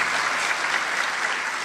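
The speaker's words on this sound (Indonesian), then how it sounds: "Tepuk tangan buat Tuhan." A church congregation breaks into steady, enthusiastic applause during a sermon, a dense and even wash of many hands clapping, loud and close, with no talking over it.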